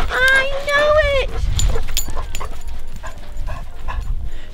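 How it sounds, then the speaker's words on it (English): Dogs on a rural property give high whimpering, yipping cries at close range, then fade into softer noises while people talk nearby. "So apparently, there's two dogs on the property"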